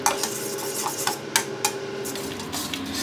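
Spoon stirring tamarind sauce with sugar and a little water in a pan over medium heat, a steady low simmer broken by several sharp scraping clinks against the pan, close, no talk.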